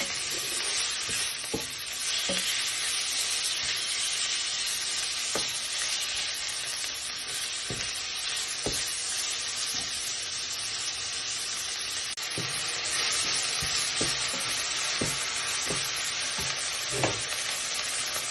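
Chicken fajita frying in a pan, a steady close sizzle running throughout while a utensil stirs it, scraping and tapping the pan every few seconds.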